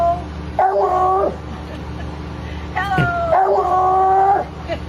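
A dog howls in two drawn-out, wavering tones, close and fairly loud, separated by a pause, over a steady low background rumble with a voice briefly in between.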